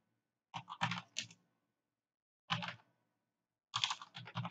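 Bursts of quick clicks from a computer keyboard come in three short clusters separated by quiet gaps, close and fairly soft, with no talking.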